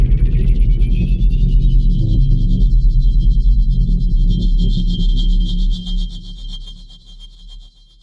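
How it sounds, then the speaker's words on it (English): A wormhole traversal sound effect synthesized in Phase Plant: a loud, sustained deep rumble with a rising whooshing sweep and a bright shimmering high layer, swelling steadily for several seconds, then thinning and fading toward the end. "I got asked to make a sound of a wormhole traversal"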